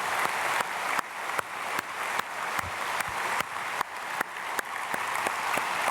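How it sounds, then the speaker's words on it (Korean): A church congregation at an early-morning prayer service claps in steady applause, sharp hand claps repeating in a brisk even rhythm across the whole stretch, moderately loud and without talk. "박수로 한번 축복하겠습니다."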